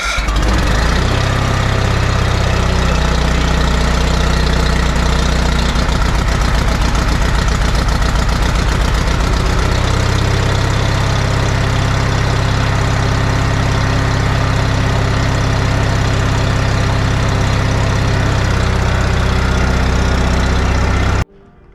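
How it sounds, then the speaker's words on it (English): A Bolens HT20 garden tractor engine, carburetor freshly tuned, idles steadily after a cold start, with a loud continuous low rumble and a slight shift in tone partway through, no talk over it. "I haven't cold started it since I tuned the carb"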